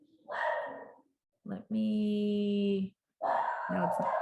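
A dog barks from downstairs in a house, a few loud, slightly muffled barks with short pauses between them, each one long and tonal.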